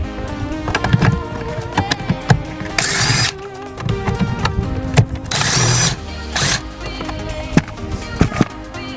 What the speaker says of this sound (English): we're going to go ahead and remove these bolts here. 7mm.